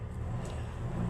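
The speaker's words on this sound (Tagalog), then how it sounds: "Ingay ng motor ng kapitbahay." A neighbor's motorcycle engine idles and rumbles steadily nearby, a low continuous mechanical drone with no voices over it.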